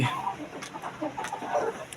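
Desi chickens cluck softly in a poultry shed, several overlapping low calls over a steady background hum.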